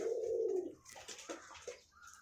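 Pigeons kept as pets in a Bengali home loft coo in a loud, low, drawn-out call up close, followed by softer scattered cooing and rustling.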